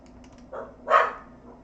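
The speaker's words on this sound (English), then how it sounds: "Dog barking in the background." A dog barks twice in the background, one short yip and then a louder bark, both fairly faint over a quiet room with a low hum.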